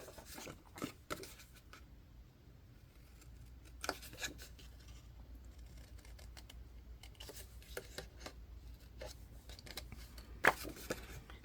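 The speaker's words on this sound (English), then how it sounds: "then we're going to cut those squares out." Scissors cutting squares out of scored paper for a scrapbook album, a run of quiet, close snips and crisp paper crunches at irregular intervals against a soft room hush, with no talking.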